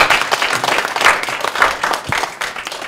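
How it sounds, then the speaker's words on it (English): A loud, sustained round of applause from an audience at a Buddhism talk and question session at the University of Botswana in Gaborone, with dense rapid clapping that rises and falls slightly over a few seconds. "can we give a round of applause to the Rinpoche one last time?"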